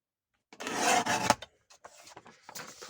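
A paper trimmer slices a strip off a sheet of decorative paper for a craft project, giving one sustained rasping cut of about a second, followed by faint, brief handling rustles.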